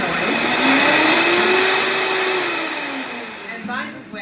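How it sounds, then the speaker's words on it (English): A Vitamix blender runs continuously on a batch of homemade basil pesto, a loud steady motor whir with a rising then falling pitch as the speed shifts, and a brief clatter near the end. "I have a Vitamix, or you can use a blender"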